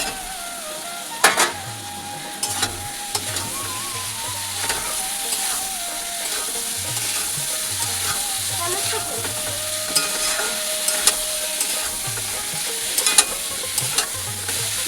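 Fried potato and pointed gourd are stirred into a sizzling spice paste in a pan, a constant close fry hiss broken by repeated scraping strokes and occasional sharp clinks of the utensil, with no one talking.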